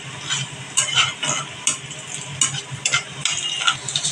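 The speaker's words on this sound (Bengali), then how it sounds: "একটু বাদামি করে পেঁয়াজগুলো ভাজবো, বেশি কড়া ভাজবো না।" Onions frying in a pan with a steady sizzle and occasional stirring scrapes and clinks, close up, no talking.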